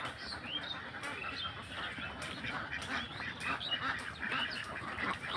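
A flock of white Belgian ducks on a duck farm quacking and honking repeatedly, overlapping calls at moderate distance with a faint outdoor background.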